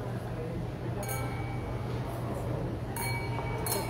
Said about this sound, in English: You can hear the glasses clinking, ladies and gentlemen.